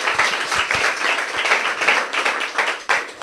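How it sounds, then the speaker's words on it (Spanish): A church congregation claps loudly after a prayer, a warm, dense wash of many hands clapping together, sustained and close, rising and falling slightly with no voices standing out. "Un aplauso fuerte a Jesús."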